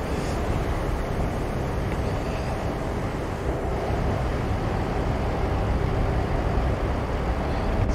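A truck engine drones under loud, steady wind rushing through an open cab window in Euro Truck Simulator 2, a constant hiss and rumble with no talk.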